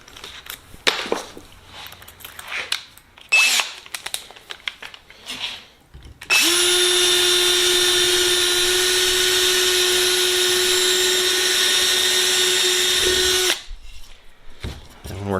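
A power drill fitted with a replacement bit bores into aircraft aileron counterweight parts during a Sonex kit plane build, giving a loud, steady high whine for about seven seconds. Scattered handling clatter comes before and after it.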